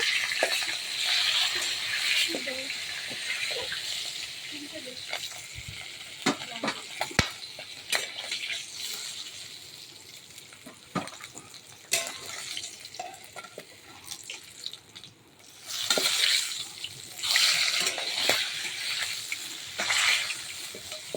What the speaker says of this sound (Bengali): মাছের মুড়ো ভাজা হয়ে গেছে